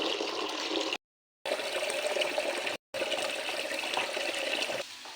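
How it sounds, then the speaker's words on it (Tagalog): Water pours steadily from a bucket into a mini washing machine, a continuous close splashing rush with two brief gaps, then tapering near the end. "sinisimulan ko ng kumuha ng tubig na ilalagay ko sa mini washing machine."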